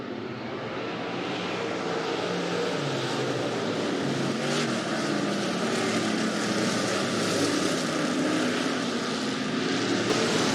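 Stock cars racing side by side at Rapid Speedway, a dirt-track season opener, make a dense, continuous engine roar that holds steady and loud from start to finish with no one speaking.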